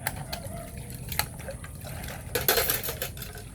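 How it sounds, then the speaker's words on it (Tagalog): Dishes are washed by hand: plates and utensils clink and clatter intermittently while water splashes and runs in the background. "naghuhugas ng pinggan dito"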